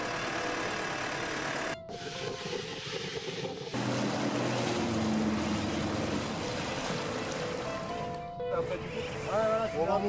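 A small boat's outboard motor runs on open sea during a reptile survey trip around remote islands, a continuous drone under wind and water noise, with people talking over it.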